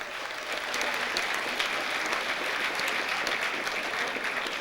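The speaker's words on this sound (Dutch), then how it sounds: "Applaus voor die man." Steady applause from a crowd at a carnival prince proclamation in Horst, filling the room evenly for several seconds without a break.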